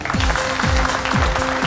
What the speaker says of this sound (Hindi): और जोरदार तालियों के साथ स्वागत कीजिए हमारी डांसिंग क्वीन दीपनिता